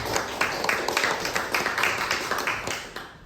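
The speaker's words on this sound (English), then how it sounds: "It's good that I get the applause at the beginning" Audience applause greeting a speaker at the start of a talk on explosive ordnance in Ukraine, a dense, steady wash of many hands clapping at close range throughout, with no one speaking.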